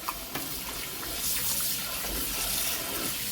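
Steady rushing of water pouring from a tap, a continuous hiss with faint splashing, close by and fairly quiet.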